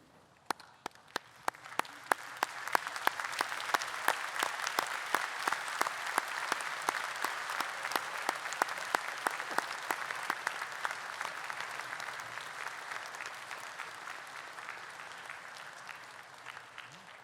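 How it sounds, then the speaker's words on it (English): A graduation ceremony audience breaks into sustained applause, starting with a few scattered claps and swelling into dense, even clapping across a large hall before slowly thinning out. "join me in a round of applause to thank them for all that they've done for you."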